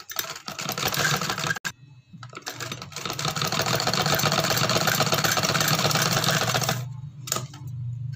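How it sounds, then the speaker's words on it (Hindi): Sewing machine stitching lace onto kameez fabric, a dense rapid mechanical chatter running in bursts with short pauses, close and loud throughout. "सिलाई लगाएंगे।"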